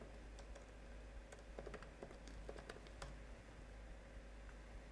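Someone types git commands on a computer keyboard, the keystrokes coming as quiet, irregular clicks over a steady low hum.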